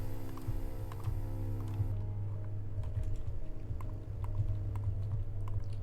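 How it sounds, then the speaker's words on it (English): Soft, quiet keystrokes on a Logitech Silent Touch keyboard in rapid, steady typing, close by, muffled clicks continuing over a low constant background hum. "I'm not trying to sound too excited over a Logitech Silent Touch, but it really is baffling how quiet it is"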